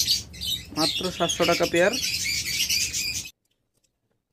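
Cockatiels and other cage birds squawk and chirp loudly at a bird shop, shrill repeated calls overlapping someone speaking, then cutting off abruptly into silence.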